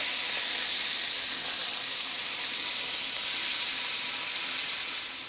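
Beef shanks sear in a hot pan, giving a steady, loud, bright sizzle that holds evenly throughout and tapers slightly at the end, with no talking.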